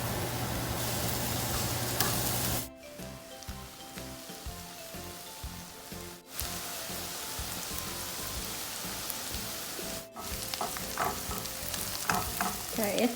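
Onion and garlic frying in Parmesan butter in a pan give off a steady, dense sizzle with occasional stirring scrapes, close and fairly loud, with brief dips where the hiss drops out.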